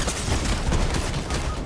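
Fortnite gunfire rattles in a dense, continuous burst of rapid shots, loud and close, with no talk over it.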